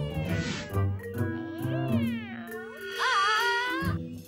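A cartoon cat meowing repeatedly, several drawn-out, loud, close meows and whining cries in a row, alone without talk.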